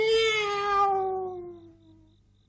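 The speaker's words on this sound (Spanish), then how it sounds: "¡Es un gato de verdad, papá!" A cat gives one drawn-out, clear meow that starts loud and close, then slowly fades and trails off into near silence. Nobody speaks.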